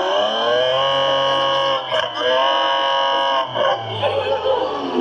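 A synthesized Lamborghini Aventador engine note plays through an electric car's sound system at the IMX 2025 auto show: a loud, steady, buzzy harmonic drone that dips briefly twice, with crowd noise underneath.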